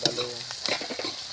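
Food frying and being stirred in a pan, a close hissing sizzle with scraping stir strokes throughout, loud and without talk.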